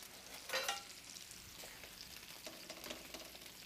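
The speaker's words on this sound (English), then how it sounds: "I want to get our cipolline browning nicely" Cipolline onions sizzle and fry in a pan, a soft steady crackle with brief stirring scrapes and clinks, heard up close at low volume with no talk.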